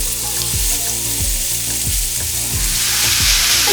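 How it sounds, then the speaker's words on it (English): Ground beef fries in a hot skillet for Tex-Mex crispy tacos, giving off a loud, steady sizzle that is broken by a few spoon scrapes and stirring bumps. No one speaks. "in our hot pan, go ahead and add your meat in."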